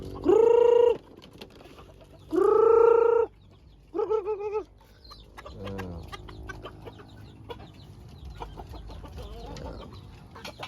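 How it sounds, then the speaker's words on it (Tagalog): Pet bantam chickens feed together, giving a few loud, close squawking clucks in the first seconds, then softer scattered pecking and clucking noises over a low background. "Mga alagang bantam ni Chawot."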